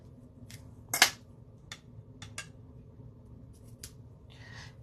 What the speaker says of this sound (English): And let's get my scissors.